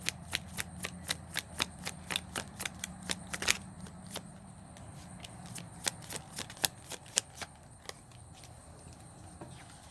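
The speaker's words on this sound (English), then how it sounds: "Now, let's pull some cards on their connection." Tarot cards riffle-shuffled by hand, a rapid run of crisp flicking snaps in bursts, close and clear with no talking.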